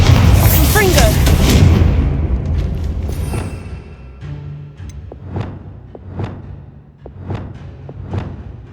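A Bombarda spell exploding in the video game Hogwarts Legacy, a heavy blast at the start that decays into rumble, followed by a regular series of lighter thumping impacts, with no talk.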